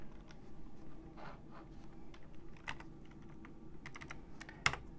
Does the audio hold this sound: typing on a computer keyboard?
yes